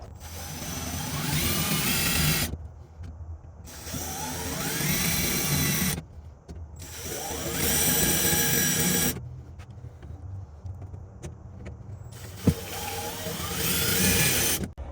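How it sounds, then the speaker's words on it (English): A power drill whirs in several long bursts separated by pauses, grinding steadily as it bores holes through the metal body of a Jeep JK, with a sharp clank near the end. "we're gonna go through and finish drilling out the rest of the holes in the Jeep"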